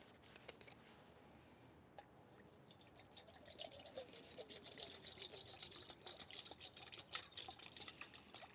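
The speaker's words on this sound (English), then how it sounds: "We're going to put 750 milliliters of water into this pot." Water, 750 millilitres, is poured into a backpacking stove pot in cold weather, a soft steady trickle and splash that grows slightly louder as it fills, quiet and close with no talk.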